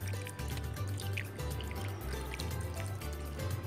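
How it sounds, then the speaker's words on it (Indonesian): Water trickles and drips softly onto a seedbed of freshly sown chili seeds, a faint, steady watering sound nearby with a low hum beneath it. "Kemudian disiram."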